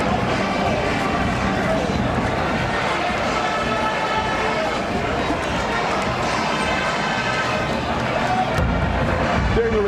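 A football stadium crowd roars during a 2023 Duke vs. Virginia ACC game, a constant loud wash of cheering and hubbub with a broadcaster talking over it.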